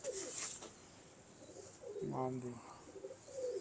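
A soft-feathered, older pigeon being handled lets out one brief, close, low coo, with a voice speaking briefly nearby.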